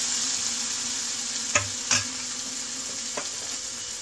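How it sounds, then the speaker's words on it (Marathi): Tomato sautéing in a spice masala for a cauliflower, peas and potato bhaji, giving a steady low frying hiss with a few brief clinks of a stirring spoon against the pan. "आपण आता टोमॅटो घालूया। मसाल्यात टोमॅटो परतून घ्यायचा आहे।"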